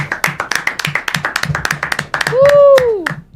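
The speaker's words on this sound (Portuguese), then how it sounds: "Uma salva de palmas pro Danilo." Applause for Danilo on a podcast set: a run of quick, fairly loud hand claps from a small group, with a sustained tonal sweep near the end.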